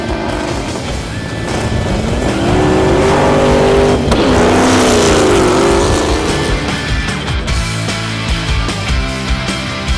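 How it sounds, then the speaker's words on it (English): Eighth-mile heads-up drag race cars at an airport strip, engines roaring as they launch and accelerate hard, the sound swelling loud and close in the middle before fading as they pull away. "The format's an 8th mile heads-up drag race."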